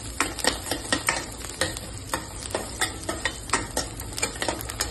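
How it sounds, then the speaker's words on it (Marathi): Curry leaves sizzle in a hot oil tempering while a spoon stirs them around the pan. Sharp, rapid scraping taps repeat close up over a steady frying crackle. "कढीपत्ता पण आपण टाकलेला आहे फोडणीला"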